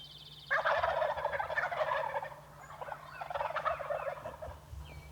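Wild turkeys on the roost at dawn gobble loudly and close by, one long rattling burst followed by a second overlapping round of gobbling, with faint birdsong behind.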